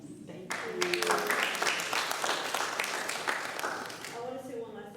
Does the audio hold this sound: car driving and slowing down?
no